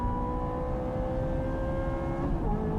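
Race cars at Fuji Speedway, a Mitsubishi Lancer Evo and a Ferrari 355 F1, drone steadily at high revs with sustained engine whine holding pitch, then a slight pitch drop near the end as one car shifts or passes.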